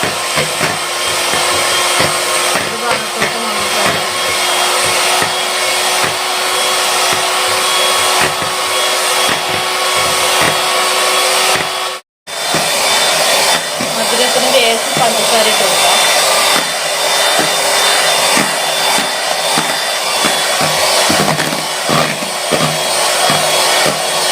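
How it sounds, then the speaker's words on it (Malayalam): Electric hand mixer whipping one cup of whipping cream with powdered sugar for a Christmas dessert, a steady loud whirring drone that runs continuously with a single brief cutoff midway. "ഒരു കപ്പ് വിപ്പിംഗ് ക്രീം മതി ദേവൂട്ടനാന്ന് അടിക്കുന്നത് കേട്ടോ"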